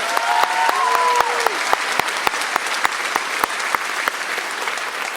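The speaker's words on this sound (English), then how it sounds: "Alexandra, yeah, let's give her a round of applause" A graduation audience applauds the senior class valedictorian, a broad wash of clapping with sharp individual claps standing out, while a brief whistle-like tone rises over the crowd early on.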